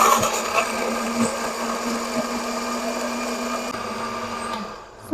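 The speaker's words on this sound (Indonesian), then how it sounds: "Kita blender bumbunya teman-teman ya." A kitchen blender whirs steadily for about five seconds as it grinds a spice paste for Eid dishes, a loud continuous motor hum that cuts off abruptly at the end.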